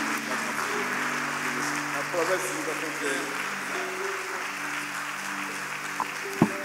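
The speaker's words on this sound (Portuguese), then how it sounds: "Aplaude o nosso Deus, irmãos." A church congregation applauding together, a steady broad wash of clapping under faint background tones and occasional voices, fairly close and sustained throughout.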